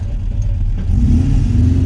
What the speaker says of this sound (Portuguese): Olha lá, chegando mais uns carros ali.